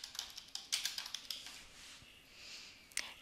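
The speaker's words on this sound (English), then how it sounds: "Type a brief explanation of your destination" Computer keyboard typing while filling in a pool car reservation form: bursts of quick, crisp key taps in an uneven rhythm, close and fairly quiet, with a pause before a final couple of keystrokes.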